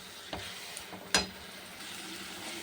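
Spices (turmeric, salt, Kashmiri chili powder and spice-paste water) fry faintly in a pan, giving a soft, low sizzle broken by a few sharp clicks and taps.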